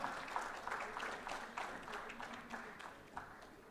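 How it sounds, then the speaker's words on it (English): A modest audience applauds at an awards event, faint uneven clapping with distinct individual claps rising and falling over a few seconds, tapering off. "Give them a huge round of applause, everyone."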